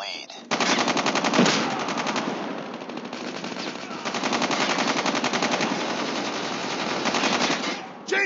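Call of Duty Mobile Hardpoint match with long, rapid bursts of automatic machine gun fire, loud and close, with a short break partway through, nearly filling the whole span.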